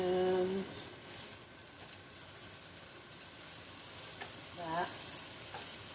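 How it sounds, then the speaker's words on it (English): Goat meat for curry goat stew searing in a pan, giving a soft, steady sizzle at low volume with a couple of faint clinks from handling. "So that's about 3 minutes on each side. Just enough to sear the juices in."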